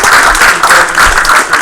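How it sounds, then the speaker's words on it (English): An audience at a game studio awards ceremony applauds the honorees, a loud, dense burst of steady clapping heard close for under two seconds with no voices over it. "Please, a round of applause to all of you."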